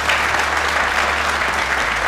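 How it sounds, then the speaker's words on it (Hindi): Studio audience on a Pakistani cricket talk show breaks into steady, dense applause, loud and continuous throughout, with no voices over it. "ये तो बनता है ताली होनी चाहिए"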